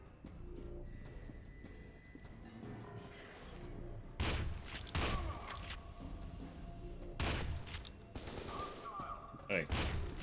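Grenade explosions in the Voices in the Void video game: several loud, sharp bursts, each with a brief rumbling tail, come at irregular intervals over a steady, busy background.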